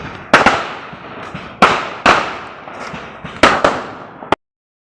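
Firecrackers burst outdoors during a Holi night celebration, several sharp loud bangs arriving irregularly with crackling decay, a couple of close pairs, ending abruptly.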